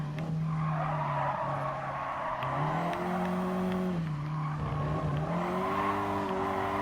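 A Ford Focus ST in a Gran Turismo Sport time trial brakes and corners, with a steady engine drone under tire squeal whose pitch slides and wavers through the turn. No one speaks.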